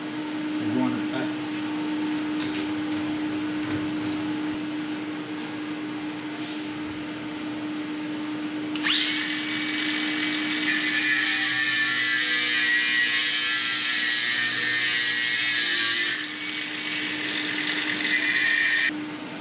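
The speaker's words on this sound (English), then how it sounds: "I'll grind a couple of slits down here so I get good penetration into it" An angle grinder cutting slits into metal on a Triumph Thunderbird motorcycle tail section, a loud steady high-pitched whine starting partway through and running continuously after a stretch of quieter workshop hum.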